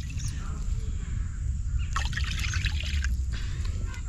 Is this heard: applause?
no